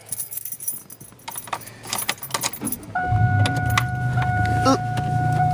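Car keys jangle in a close, bright metallic rattle while a car is being started, followed by the steady hum of the engine once it catches, with a tonal chime from the dashboard sounding over the running motor.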